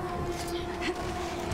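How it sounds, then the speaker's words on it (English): Train passing in a Resident Evil 6 sewer level, a steady mechanical rumble with a droning tonal hum, moderately loud and brief. "Look out, a train."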